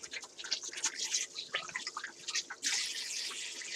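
Water runs and splashes from a kitchen tap while a fish (inada, young yellowtail) is rinsed, a steady close wash with dripping, spattering bursts that swell louder toward the end.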